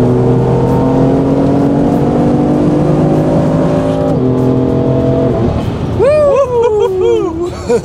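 A stage two tuned BMW M3 F80 accelerates hard in fourth gear, its engine droning loud and close with rising pitch, a brief drop at a shift, then a rising whine with tire and road noise inside the cabin.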